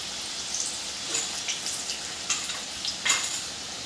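Karanji pastries frying in hot oil, giving a steady soft sizzle with a few louder bubbling bursts, close by and with no talking.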